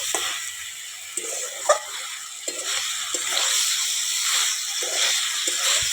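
Beans, potato and eggplant are stir-fried with light spices in a home kitchen, giving a soft continuous sizzle and hiss broken by repeated scraping and stirring strokes of a spatula in the pan.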